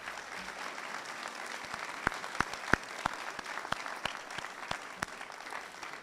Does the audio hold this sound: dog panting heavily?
no